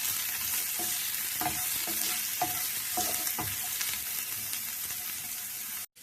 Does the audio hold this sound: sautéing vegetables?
yes